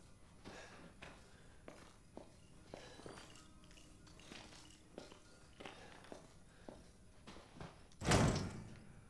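A door in Resident Evil 7 gives a loud heavy thud near the end, after a run of soft knocks and footstep-like taps in a quiet room.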